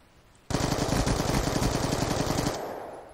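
A new weapon fires a sustained automatic burst in Call of Duty: Black Ops 2, loud, rapid and evenly rhythmic for about two seconds, then cutting off into a fading tail.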